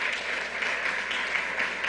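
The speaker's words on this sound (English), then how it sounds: "Let's give you a round of applause." An audience at a COVID-19 press briefing at a Mount Vernon neighborhood center applauds, steady and moderately loud across the short clip, with no voice over it.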